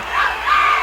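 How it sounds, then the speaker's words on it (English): A wrestling crowd at a Bruiser Brody vs Ken Patera match screams and yells for Patera in a loud, sustained roar that swells briefly toward the end of the short burst. "the crowd screaming for Ken Patera"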